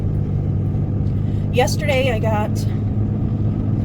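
Steady low engine and road rumble from inside a moving car, continuous throughout with a person speaking briefly over it.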